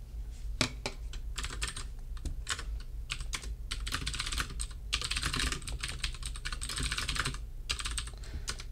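Steady computer keyboard typing as code is entered during a programming lecture, with dense irregular key clicks in bursts, a low hum running underneath, close and fairly loud throughout with no talking.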